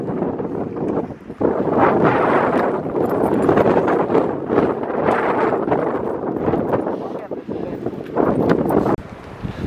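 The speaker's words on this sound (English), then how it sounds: "it's a bit windy today" Gusty wind buffets the microphone outdoors beside a Vistabule teardrop camper, rising and falling in loud rumbling surges with short lulls between gusts.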